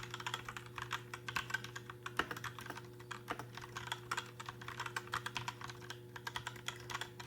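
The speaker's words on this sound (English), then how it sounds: "So this is what it sounds like with me lightly typing." Light, steady typing on a mechanical keyboard with linear key switches, a soft rapid patter of key presses at close range over a low steady hum.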